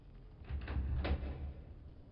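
A door in the video game Dark Earth opens with a short, soft scraping slide of about a second, faint and close, with no voices over it.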